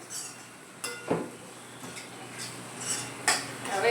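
A metal spoon scrapes and clinks against a pan while spices are stirred into a Gujarati kantola (spiny gourd) curry, with a few distinct scraping strokes over soft background noise and no talking.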